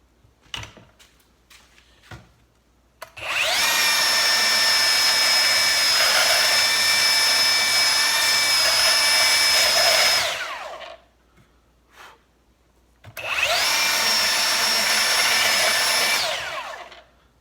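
A Ryobi 18-volt One+ brushless cordless belt sander runs against painted wood with a finishing nail in it: a loud, steady whining drone for about seven seconds, a pause with a few clicks, then a second shorter run.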